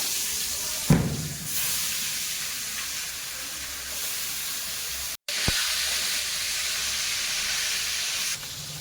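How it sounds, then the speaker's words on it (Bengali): Stingray fish pieces hit hot oil with a sharp splash, then a steady, hissing sizzle continues close by, briefly interrupted. "এবার বাকি মাছগুলো তেলের মধ্যে দেবো"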